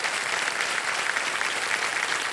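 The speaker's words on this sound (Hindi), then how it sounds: "उनके लिए ताली बज जाओ" A studio audience claps for the companions of the India women's national cricket team on a quiz show, a thick, uniform roar of applause, loud and unbroken from start to finish with no voices over it.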